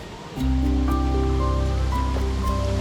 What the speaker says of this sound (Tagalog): Ang talon na to ay mayroong taas na 50 talampakan.